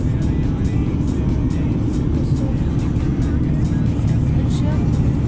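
A car driving on a road between Nynäshamn, Sweden, and Skien, Norway, with a loud, steady engine and tyre rumble filling the cabin continuously from start to end.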